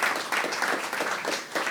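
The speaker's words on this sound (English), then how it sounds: "Give her a big round of applause" Audience applause at a comedy show, steady dense clapping from a crowd with a faint voice or cheer mixed in, moderately loud throughout.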